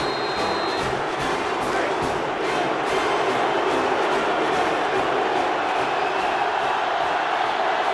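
Stadium crowd from the NCAA Football 06 video game makes a continuous, dense roar that stays loud and steady throughout, with no clear pauses or swells.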